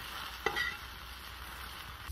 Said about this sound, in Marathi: आता जरा भेंडी भाजत आली की 1-2-3 चमचे तेल सोडायचं म्हणजे भेंडीच नाही पटापटा भाजते.